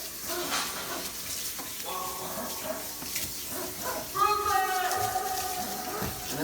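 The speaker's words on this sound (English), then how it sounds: "And it's hot water I'm using" Hot tap water running steadily while groceries are washed, a continuous hiss under a speaking voice, with a dog barking in the background.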